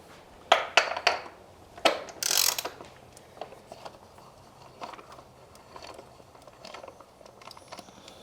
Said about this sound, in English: So now you're going to remove these 10mm bolts to get the coil packs off.